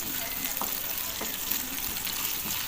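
Onions browning in a wok sizzle steadily in hot oil, with a dense crackling hiss and a few soft stirring scrapes close by.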